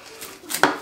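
A kitchen knife cutting food on a board, heard as a quick pair of sharp taps and knocks, close and brief, after a moment of quiet handling.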